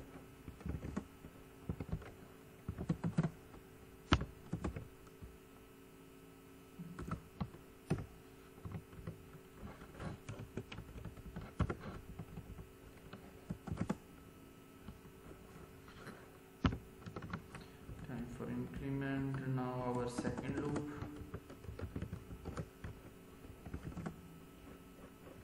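Bursts of keyboard typing while C++ code is written, irregular clusters of clicks with short pauses over a steady background hum, with a brief swell of other noise toward the end.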